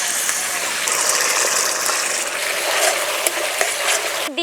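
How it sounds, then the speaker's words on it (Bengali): Onion paste and tomato paste frying with whole garam masala spices in a pan, giving a loud, steady sizzle and hiss with occasional stirring scrapes, ending in a brief clatter. "গোটা গরম মশলা, পেঁয়াজ বাটা, পেঁয়াজ নাড়াচাড়া করে ভেজে নিলাম"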